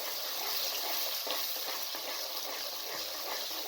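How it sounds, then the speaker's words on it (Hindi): Onions fry in a cup of hot cooking oil in a wok over a medium flame, giving a steady, dense sizzle that holds evenly throughout with no talking. "जैसे ही ऑयल गर्म हो जाए इसके अंदर प्याज को शामिल कर दें"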